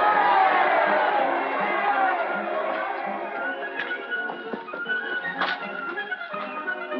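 A dense crowd fills a busy street, heard as a loud murmur of many voices with scattered shouts and calls, in a 1946 film with a muffled, band-limited old soundtrack.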